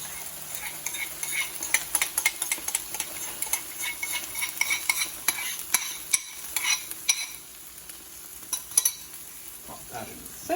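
Tomato stirred into a frying pan of garlic and onions, with a soft sizzle under repeated scraping and clinking of a utensil against the pan, close and fairly quiet, no talking.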